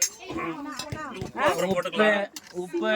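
Soup is stirred in a pot, with a few sharp metallic clinks and taps of a ladle heard beneath steady conversation between people nearby.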